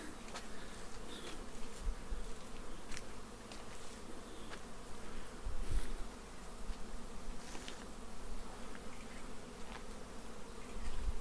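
Bees from a forest apiary with polyurethane-foam hives hum in a steady, dense drone, with individual insects buzzing close past now and then; no voices.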